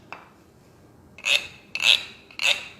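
Three rasping scrapes on a wooden fish scraper in a row, each a short ratcheting burst, close and fairly loud, following a faint tap and quiet pause.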